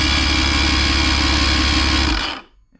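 A big engine swapped into a Glastron CVX16 boat idles with a steady, dense rumble, close and loud for about two seconds before it cuts off, leaving near silence.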